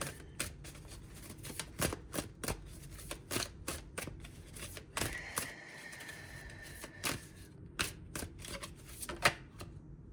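A tarot card deck being shuffled up close: a rapid run of crisp riffling snaps and flicks that continues steadily for about ten seconds, with no voices.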